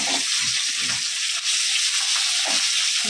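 Katla fish pieces frying in hot oil in a pan, with a loud continuous hiss and crackle close by and a few low knocks as the pieces are handled, without any speech.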